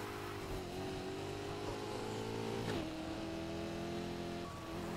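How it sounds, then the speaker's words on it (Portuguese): A turbocharged car engine in the Need for Speed Heat video game, droning steadily with layered harmonic whine, dipping briefly midway before settling at a slightly lower pitch, a continuous strained, unusual tone. "tô fazendo um barulho estranho o carro depois que eu botei esse turbo compressor aí"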